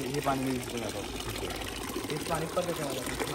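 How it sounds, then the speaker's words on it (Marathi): Drinking water from a public fountain in Switzerland splashes steadily nearby, a continuous pouring rush with a person talking over it. "इथं जे पाणी पडतंय हे प्यायचं पाणी आहे"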